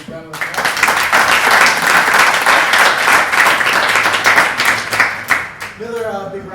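A big round of applause for a presenter at an evening meetup in Berlin, dense crowd clapping rising quickly and holding steady before fading, with a voice speaking briefly at the start and again as it ends.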